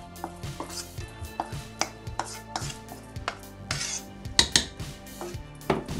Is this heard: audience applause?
no